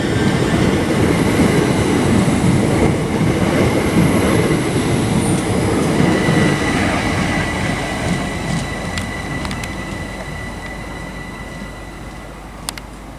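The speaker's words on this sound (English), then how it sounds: "here we have 387145 arriving from Newbury to Reading" Class 387 electric train 387145 pulls into the station on its run from Newbury to Reading, a steady rolling rumble with a high squealing whine and faint clicks, gradually easing as it slows.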